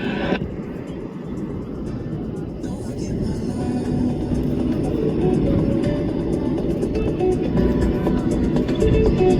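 EA-18G Growler jet making a high-speed pass at an airshow, a distant rumble swelling into a broad, loud roar that keeps building while people talk nearby.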